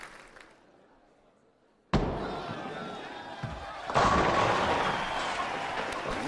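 A bowling ball crashes into the pins in a PBA match, a sudden loud impact followed by sustained clatter and crowd noise, with a second burst of pin action and cheering rising a couple of seconds later.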